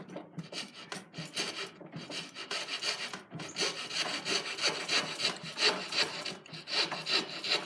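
A hand saw cuts through wood in quick, rhythmic rasping strokes, close up and steady, with no talking.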